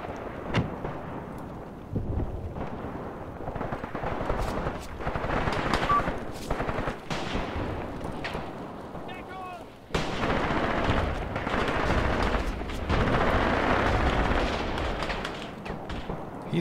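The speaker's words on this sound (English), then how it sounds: "Machine guns are still chattering away" Sustained machine gun fire rattles through a World War II battle in the tactics game Graviteam Tactics: dense, overlapping bursts of automatic fire with heavier booms, continuous and loud for the whole stretch.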